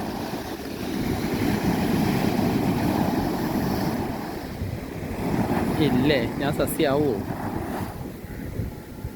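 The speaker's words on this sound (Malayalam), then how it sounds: "ഓ തിരമാല സ്പീഡ് കൂടിയിരുന്നുണ്ട്" Sea waves washing onto the shore, a steady rushing roar with wind buffeting the microphone, while a person speaks briefly over it.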